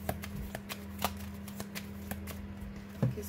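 Belline oracle cards shuffled by hand before a reading: a quick, close, rhythmic series of soft card slaps and flicks over a faint steady hum.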